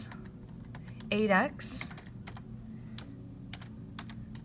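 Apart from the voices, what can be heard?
typing on a computer keyboard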